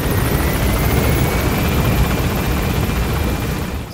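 Helicopter in the video game Metal Gear Solid 5: The Phantom Pain, a steady, loud rotor and engine roar filling the whole stretch with no speech over it.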